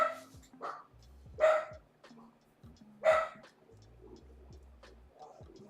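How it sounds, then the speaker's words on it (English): A single dog barks close by, with two loud sharp barks standing out among shorter, quieter yips and small ticking noises in an otherwise quiet room. "Whenever he's barking at something, he always comes to me just to make sure I'm safe."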